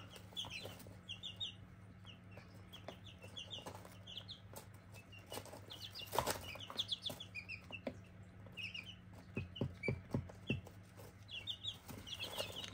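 Chickens gathered under a heater cluck intermittently at a distance, with bursts of wing flapping and scattered sharp pecking taps against a wall, over a steady low mains hum.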